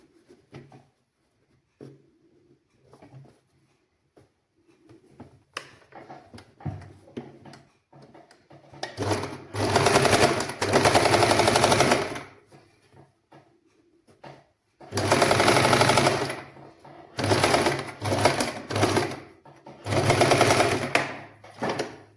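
Sewing machine stitching the opening of a nightie, running in loud, steady whirring bursts of several seconds each, separated by quiet gaps with soft handling noises.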